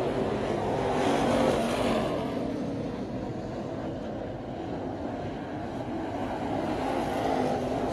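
Crate Late Model race cars at a winter nationals A-main roar around the track in a steady, dense engine drone, a continuous mid-distance rumble with a slight swell early on.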